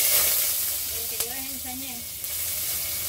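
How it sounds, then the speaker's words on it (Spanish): Ingredients sizzling in hot oil for chile relleno sauce, a steady close hiss of frying on lowered heat with a brief tap of something dropped in, no talk. "Yo tengo mi aceite caliente, voy a proceder a echarle un poquito de cada ingrediente"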